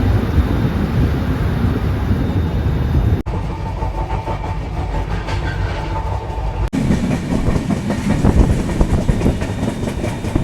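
Rajdhani Express train running on rails: a steady, loud rumble of wheels with rhythmic clickety-clack, heard from inside the moving train, with some wind buffeting and two brief cuts between segments.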